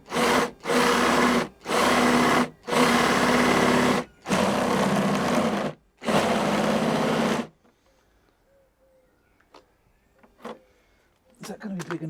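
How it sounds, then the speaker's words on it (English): A power drill runs in six loud bursts of steady whirring with short pauses between while fitting a tailgate table shelf on a Jeep Wrangler JL, then stops, leaving faint clicks and small handling noises. "Put the big boy drill on, see if we can do something with this."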